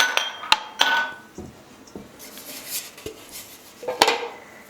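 A metal cake pan is picked up and handled in a kitchen, giving sharp clanks and knocks at irregular intervals, some ringing briefly, with quieter rattles between, close and with no talk.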